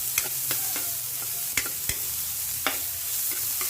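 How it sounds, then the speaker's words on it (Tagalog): Onion, garlic and ginger sautéing in a pan for beef papaitan, a constant sizzle punctuated by repeated crisp spatula taps and scrapes. "So meron tayo ngayon sibuyas bawang luya. Ihulog na natin sabay-sabay."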